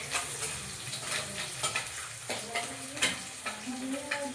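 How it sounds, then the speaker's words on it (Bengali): Green chillies sizzling as they fry in a pan in a home kitchen, a steady crackling hiss with occasional stirring and faint utensil clinks, close and without speech. "কাঁচা লঙ্কা ভাজা ভাজা হবে"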